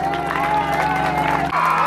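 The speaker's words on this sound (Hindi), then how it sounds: "एक बार जोरदार तालियां सर के लिए" An audience at an Independence Day function applauds the march past in-charge, broad clapping and cheering mixed with crowd noise and a sustained tonal hum underneath.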